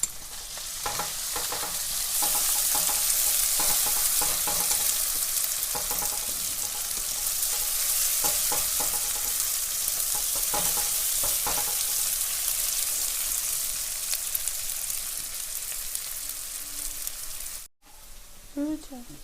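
Chopped green chillies sizzle steadily in a hot pan of oil, a loud bright frying hiss with intermittent stirring scrapes, a voice speaking briefly over it before a short clatter near the end.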